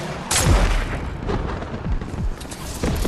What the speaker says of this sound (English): I'm calling the airstrike on him